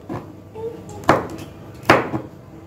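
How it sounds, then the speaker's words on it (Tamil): A knife chops green beans on a board in a home kitchen, with two sharp, fairly close cuts about a second apart and quieter handling noise between them. "பொடி பொடியா நறுக்கணுமா?"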